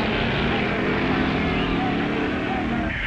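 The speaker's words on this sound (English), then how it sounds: "And there goes his brother Phil and his A Gasser, affectionately called Grandma." A/Gas drag racing hot rod, a gasser nicknamed Grandma, roaring past with a loud, continuous engine drone that holds steady throughout.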